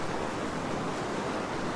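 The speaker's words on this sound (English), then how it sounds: "Some nice water draining off these rocks." Seawater rushes and drains off coastal rocks at Currumbin, Queensland, Australia, making a steady broadband wash of surf noise with some wind rumble.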